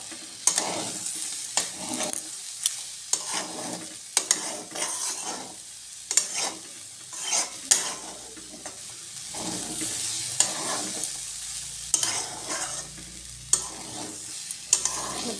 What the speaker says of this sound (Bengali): সেদ্ধ চানাটা এটার সঙ্গে ভাজবো।